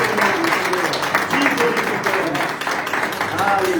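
A church congregation claps hands in worship during a celebration service, the rhythmic clapping running throughout beneath a voice speaking and singing over it.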